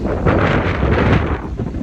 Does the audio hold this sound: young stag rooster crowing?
no